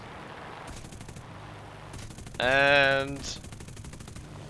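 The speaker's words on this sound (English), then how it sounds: "Lining up the Mark 5B for another shot." A brief loud burst of Mark 5B cannon fire from a P-47 fighter in War Thunder, about half a second of rapid rounds amid low engine drone, with one short spoken word.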